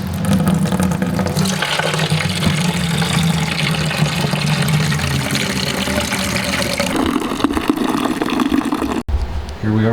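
Wort poured into a fermenter onto pitched Jovaru Lithuanian farmhouse ale yeast, a continuous rushing, splashing liquid stream that shifts in tone as the vessel fills, with a brief break near the end.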